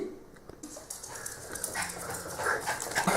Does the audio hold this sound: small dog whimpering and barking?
yes